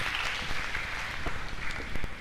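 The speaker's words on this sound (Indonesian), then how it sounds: "Tepuk tangan untuk kita semua." Audience clapping at a PKBM Usaha Mandiri graduation ceremony, a dense, continuous round of applause from a hall full of people, fairly close and even in level throughout, with no speech on top.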